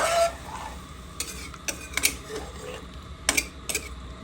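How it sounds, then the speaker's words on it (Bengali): Gravy poured into a pan of Bengali fish curry with cauliflower and potato, followed by a few stirring scrapes and utensil clinks against the pan, close and moderately loud, no voices. "ঝোলটা দিয়ে দিলাম।"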